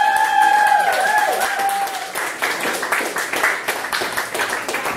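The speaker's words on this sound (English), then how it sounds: "Yeah, clap your hands for that." A comedy club crowd at a Brantford showcase at The Rose and Thistle claps and applauds. Dense, steady clapping fills the room, rising after a brief tonal sound at the start and carrying on loudly to the end.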